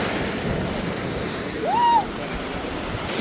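Sea waves breaking on Funtana beach near Poreč, Croatia, a steady broad wash of surf with wind noise buffeting the microphone and a brief swell in loudness near the middle.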